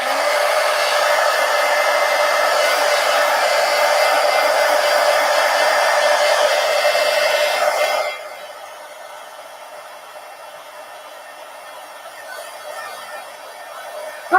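Hair dryer blowing steadily on a napkin journal in a traveler's notebook, a loud, even broadband rush for about eight seconds, then dropping to a quieter, softer airflow as it is angled away or set lower.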